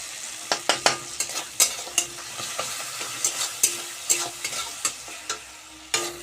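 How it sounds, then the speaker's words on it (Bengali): A spoon scrapes and taps in a pan again and again as masala with ginger for a paneer curry is fried down, a gentle sizzle running underneath. The close stirring strokes come in an uneven rhythm, and no one talks. "ভালো করে এটাকে কষিয়ে নিয়েছি মশলাটা"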